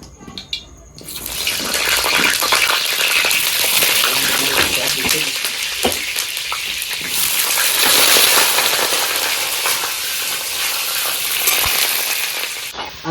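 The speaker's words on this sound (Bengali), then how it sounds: "আলু কটা এখন ভেজে নেব" Potato pieces frying in hot oil in a kadai for a duck curry; a loud, steady hiss and crackle of sizzling oil starts abruptly and continues throughout, close up.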